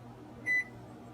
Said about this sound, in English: Every time you hear a beep on the console